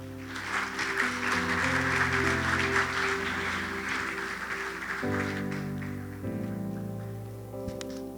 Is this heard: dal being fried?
no